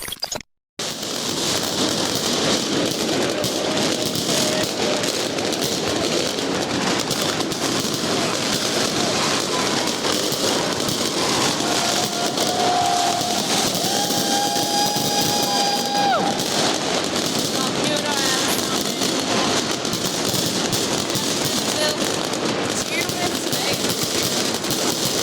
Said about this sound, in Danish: Det er ikke midnat endnu, men danskere elsker deres fyrværkeri. Og det er overalt.